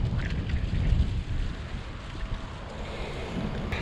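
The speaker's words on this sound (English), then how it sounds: "So it's a little bit windy." Strong wind gusts roar across an open overnight truck campsite in high winds, a steady low rumble buffeting the microphone for the whole stretch, with no voices.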